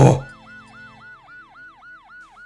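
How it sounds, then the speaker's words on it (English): After a brief loud burst, a siren in the video game Super Smash Bros. Brawl wails in a fast repeating up-and-down electronic pattern, steady and moderately loud with no talking. "A siren! Scary!"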